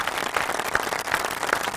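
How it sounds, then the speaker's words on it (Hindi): A studio audience claps for a guest on a Pakistani television talk show, a brief, steady patter of many hands at moderate loudness with a few sharper individual claps. "भैरव सवारी के लिए तालियां दो"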